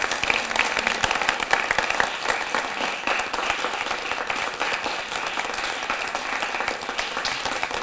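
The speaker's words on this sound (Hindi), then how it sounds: "तो चलिए जोरदार तालियों के साथ स्वागत कीजिए" Audience in a televised debate studio applauding to welcome a guest, sustained even clapping from many hands at moderate distance.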